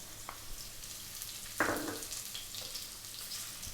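Onions hit a hot pan with carrots already cooking, one quiet sizzling burst over a low steady fry, no talk.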